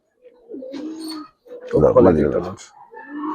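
Giribaz coloring pigeons kept as pets in Bangladesh coo in low, throaty bursts close by, with a fuller rolling coo in the middle and voices mixed in.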